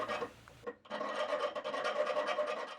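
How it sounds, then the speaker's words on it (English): Hand file rasping the rough burrs off freshly cut steel on a forged spatula sword blade, a steady run of close, dense scraping strokes after a brief pause. "don't forget to file all the rag off so you don't end up pricking yourself on a real sharp piece of metal"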